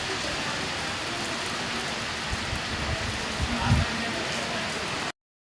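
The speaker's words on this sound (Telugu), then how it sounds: "మీకు ఇట్లా వర్షం పడే సీన్ చూడండి" Steady rain pours on hard surfaces in the evening outside a temple in Banjara Hills, Hyderabad, a dense even hiss throughout with a few heavier splashes, cutting off abruptly near the end.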